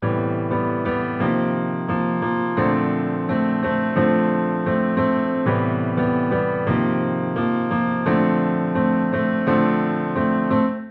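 Sustained neo soul piano chords ring out one after another, each struck and held, moving steadily through a descending progression.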